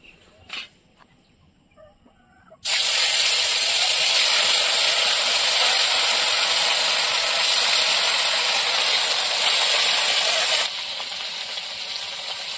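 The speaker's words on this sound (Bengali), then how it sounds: "আমাদের মাছগুলো ভাজা হয়ে গিয়েছে।" Fish hits hot oil in a wok after a quiet moment and bursts into a loud, continuous hiss and crackle that holds steady, then eases slightly toward the end.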